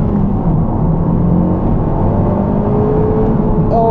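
A Honda Civic Type R FK8 turbocharged engine pulls hard from about 20 mph, a loud, steady rising drone heard from inside the cabin, climbing in pitch toward the end.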